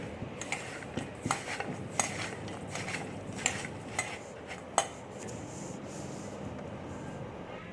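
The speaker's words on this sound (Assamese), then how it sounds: "কেৰাহীখন বহাই দিছোঁ এতিয়া" A metal wok (kadai) clatters onto a stove in a home kitchen, with a series of sharp, fairly close metallic clinks and knocks at irregular intervals over quiet background noise.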